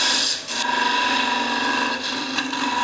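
A gouge cuts wood from the middle of a floating rim bowl spinning on a lathe, giving a close, steady, rough scraping hiss with a brief break near the start.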